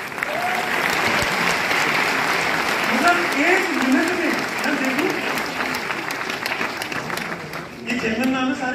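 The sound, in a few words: audience applause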